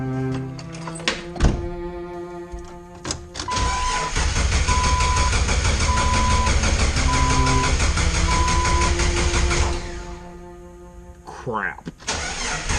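Jeep Wrangler TJ with a no-spark fault cranking without firing: a chime beeps, then a sustained starter whirr churns for several seconds and stops, followed by clunks and a brief squeak.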